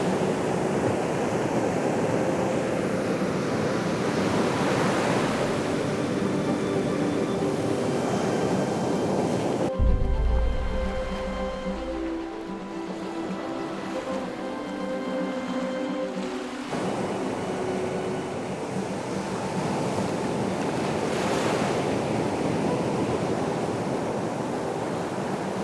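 Ocean waves wash onto a beach at sunset with a continuous, loud surf roar and some wind buffeting. A brief quieter stretch mid-way carries faint tonal sounds before the surf swells back.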